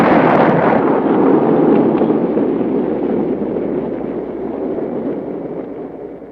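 A cannon firing: one loud, close explosive blast with a broad roar that slowly rumbles and fades over several seconds, with no other sounds.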